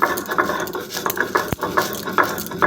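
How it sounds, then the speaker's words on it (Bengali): Chillies being ground on a stone slab (shil) for chilli pickle, a steady scraping, rubbing patter repeating in short strokes close by, with one sharp knock midway and no talk. "শিলে এগুলো বেটে নেব।"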